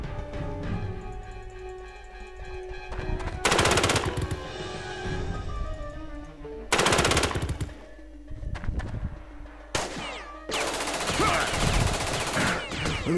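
Bursts of automatic gunfire from the tactical game Jagged Alliance 2 break out in several loud volleys, with quieter pauses between them and no talking.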